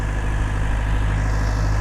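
A small farm tractor engine idles steadily up close, a low continuous rumble with a constant hum and no breaks or talk.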